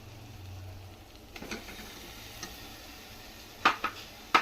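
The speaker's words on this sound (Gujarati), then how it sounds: "હવે આ બધાને સરખી રીતના મિક્સ કરી દેશું" A spoon stirs and mixes cheese masala sandwich filling in a bowl, with soft scraping, low rumbling and a few sharp utensil clinks near the end.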